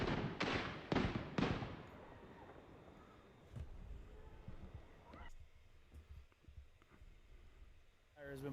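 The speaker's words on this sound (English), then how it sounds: "those are gunshots down there" At a protest, four sharp gunshots crack in quick succession nearby, then the scene settles into a murky background of distant crowd noise with a few faint pops and knocks.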